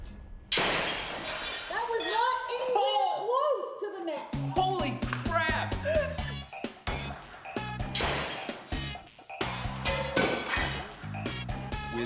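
Glass thrown and shattering repeatedly during a sneeze-spray test at a dinner-table setup, loud sharp crashes and clinks recurring in quick irregular bursts with people talking throughout.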